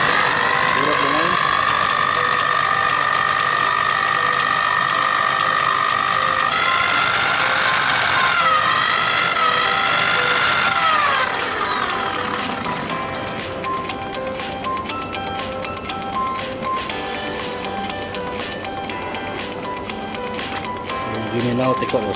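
A spooling machine winds slim PE braided fishing line onto a reel, its motor whining at a steady high pitch that shifts and then drops as it slows, loud and close, with a person talking over part of it.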